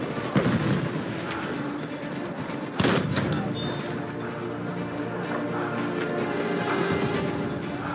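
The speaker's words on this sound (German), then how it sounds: "Ich werfe die Granate!" A grenade detonates in the Battlefield 1 Domination game mode: a sharp, loud blast about midway, set against a continuous din of distant gunfire and battlefield noise, with an earlier smaller thump near the start.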